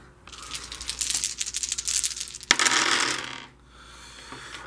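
Ten dice rolled for a game of Yahtzee clatter and rattle together for a few seconds, ending with a sharp knock and a brief settling rattle before quiet, close by and with no talking.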